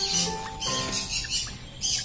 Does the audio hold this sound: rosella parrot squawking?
yes